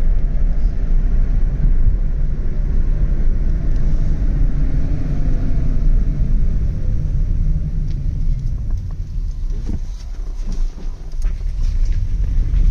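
An electric-converted Renault Clio 2 cruising at 60 mph, producing a steady, loud low road and wind rumble inside the cabin with no engine note, holding constant throughout.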